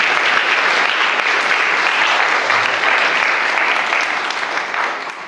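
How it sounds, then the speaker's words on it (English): Sustained audience applause at a space technology workshop, dense steady clapping from a crowd in a hall, holding loud throughout and tapering slightly at the end. "Big round of applause for the travelers."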